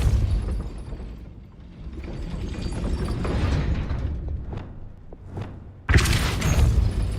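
A Depulso force spell is cast in Hogwarts Legacy, producing rumbling magical whooshes and dull thuds over continuous game ambience, then a sudden loud burst near the end.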